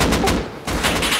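Loud, rapid AK rifle fire in the survival game Rust, a close continuous burst that breaks briefly and then resumes, with no voices over it.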